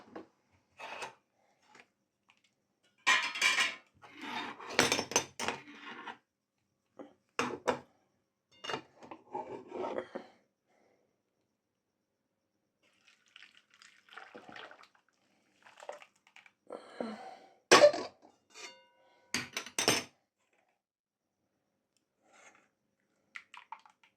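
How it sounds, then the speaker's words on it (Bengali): Melted jaggery, heated on a gas stove for a jujube pickle, is strained through a sieve, giving scattered scraping, tapping and wet sloshing bursts with quiet gaps between them. "এবারে আমি গ্যাসটা বন্ধ করে গুড়টা ছেঁকে নেব"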